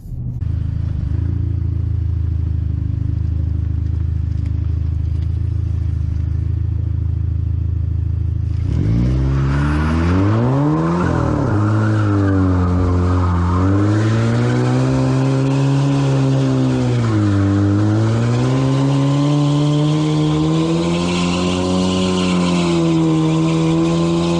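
A 2015 Volkswagen Jetta TSI on new tires is heard from inside the car. Quiet cabin hum gives way to a loud, close engine drone that rises and falls in pitch as the car accelerates, with steady road noise and no talking.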